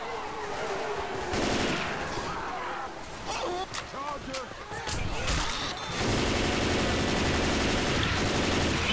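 Rapid bursts of gunfire from the zombie shooter game Left 4 Dead 2, set in a port level, crackle loudly and almost continuously, with a voice talking underneath.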